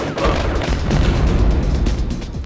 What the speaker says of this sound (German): Ah, Explosionen.